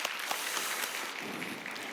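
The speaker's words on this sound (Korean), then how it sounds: "감사와 격려의 박수 하겠습니다" A church youth congregation gives a short round of applause after a piano offering, a soft, even patter of many hands heard alone and fairly distant.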